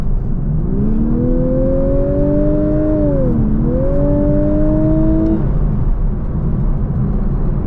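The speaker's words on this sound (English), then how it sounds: "I want you to hear the very annoying noise that they pump into the cabin" Inside a Lexus LC500h cabin, an artificial engine sound rises in pitch as the car accelerates, dips briefly, then climbs again over steady road rumble, with no talking.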